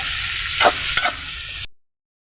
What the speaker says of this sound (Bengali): এগুলোকে এখন ভেজে নিতে হবে